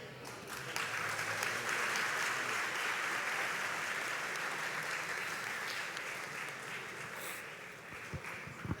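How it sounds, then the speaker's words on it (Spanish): Sustained audience applause fills a church conference hall after a pastors' question panel, dense steady clapping at close range that holds nearly unbroken and fades slightly toward the end. "démosle una vez más un aplauso en agradecimiento"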